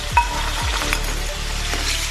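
Ginger-garlic paste sizzles steadily in a hot pan for chicken karahi, with a few scrapes and stirring knocks over the continuous crackling hiss.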